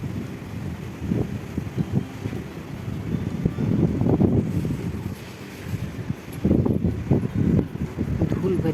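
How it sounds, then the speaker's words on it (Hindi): A powerful dust storm at night roars with heavy, gusting wind that pounds the microphone in rolling surges, dipping briefly before a fresh blast, with a person talking intermittently under the din. "धूल भरी आंधी चल रही है उसमें"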